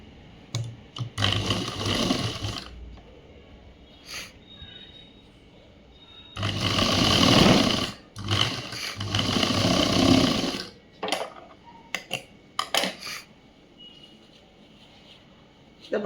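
A sewing machine stitching a school uniform shirt runs in several bursts of rapid, steady whirring, some short and one long, separated by pauses with soft handling clicks and a person speaking between runs.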